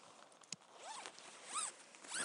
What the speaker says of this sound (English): The door zips most of the way around the whole tent.